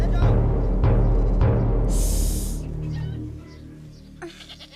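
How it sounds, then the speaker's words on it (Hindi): A goat bleats loudly and close by in three quick wavering cries, followed by a quieter stretch with some faint indistinct sounds. "बकरी की आवाज थी वो।"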